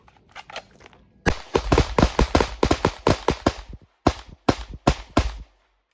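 Gunshots fired in a quick string, a dozen or more sharp cracks in rapid bursts with a short pause before a final few, loud and close.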